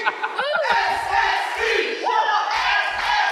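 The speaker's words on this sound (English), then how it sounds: "Listen to this crowd get behind the Strong Style Express." A wrestling crowd roars and chants for the Strong Style Express tag team at RWA Legacy VI: a loud, steady wash of massed cheering and shouting, with individual yells rising out of it.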